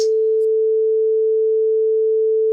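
A steady pure sine tone at concert A, 440 Hz, sounds alone and loud for the full duration, with a faint brief hiss at its start.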